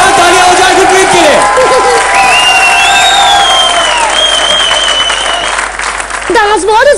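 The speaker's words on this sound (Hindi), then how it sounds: "जोरदार तालियां हो जाए गुरप्रीत के लिए।" Loud, sustained applause and cheering from a studio audience at a bride-search reality TV show, continuing steadily for several seconds with music tones and a voice cutting through near the end.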